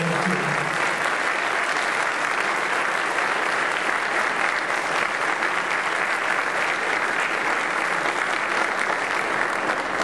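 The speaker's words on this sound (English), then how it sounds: "we ask them to stand and accept our applause and our gratitude" Congregation at a rabbinical installation ceremony applauding honorees, a sustained, loud, unbroken roar of clapping from a large crowd filling the whole stretch.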